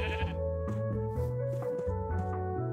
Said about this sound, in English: Ooh, sheep. Quite a few sheep.